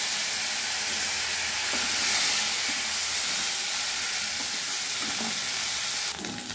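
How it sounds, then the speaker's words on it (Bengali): Potatoes frying in oil left over from frying fresh river fish give a steady, close, fairly loud sizzle and hiss that runs unbroken throughout, with no voices over it. "এই তেলেই আমি মাছের আলুগুলো ভেজে নেব।"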